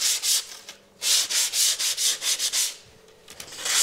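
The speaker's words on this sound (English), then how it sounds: "I've got some sawing burr on the back, so I'm just gonna get a sanding block to get that off." A sanding block is rubbed over plywood to remove burr left by a saw: a quick series of close, raspy back-and-forth strokes in bursts, with short gaps between them and no speech.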